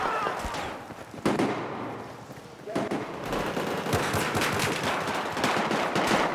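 Sniper rifle gunfire in a chaotic multiplayer video game, sharp shots punching through a dense, loud wash of battle noise and explosions, with voices faintly mixed in.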